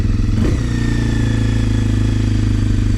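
A Kawasaki KLX 230R motorcycle engine runs at a raised, steady idle close by, a loud continuous single-cylinder putter with a brief blip near the start.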